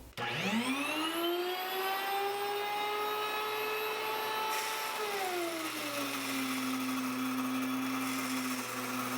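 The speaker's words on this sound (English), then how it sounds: "I just finished grinding the wheat berries and turning that into the flour" An electric grain mill grinds wheat berries into flour with a loud, steady motor whine that rises sharply at start-up, holds, then drops lower midway and carries on without speech.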